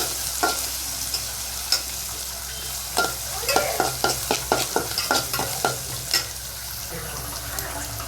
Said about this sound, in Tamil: ஆனியன், ஸ்பைசஸ்ஸு, அப்படியே இஞ்சி பூண்டு பேஸ்ட் போட்டு நல்லா வதக்கிட்டேன்